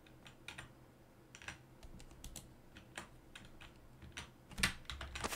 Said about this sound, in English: Your keyboard just scared the hell out of me.